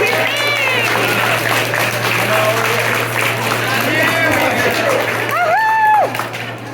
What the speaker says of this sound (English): Can you give a big round of applause for all of you being here tonight?